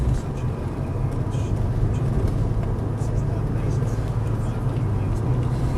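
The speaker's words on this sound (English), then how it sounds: "Switching into sport mode and it immediately picks up another gear where it should" A BMW 635CSi highline automatic in malachite green drives along and shifts gear, a steady, loud, low engine and road rumble that holds evenly with no distinct break at the gear change.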